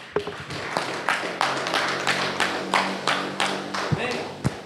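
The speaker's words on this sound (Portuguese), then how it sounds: "Palmas ao Rei dos Reis" Church congregation clapping for Jesus during a Portuguese-language worship service, a steady wash of many hands with sharper claps and thumps rising out of it, and a sustained low tone running underneath.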